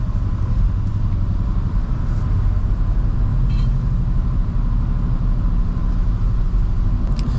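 A steady low rumble of road and engine noise fills the cabin of a 2022 Nissan Almera VL cruising at highway speed, continuous and close with no talking.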